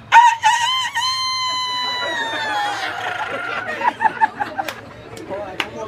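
A man imitating a rooster's crow, one long drawn-out call with a falling pitch, followed by excited chatter and voices from a small crowd at an outdoor breakfast gathering.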